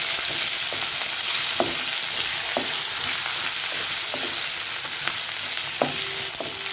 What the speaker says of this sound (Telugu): పచ్చిమిర్చి, ఉల్లిపాయలు, క్యారెట్ తురుము అన్నీ వేసుకుందాము. ఉల్లిపాయలు బాగా వేగాలి.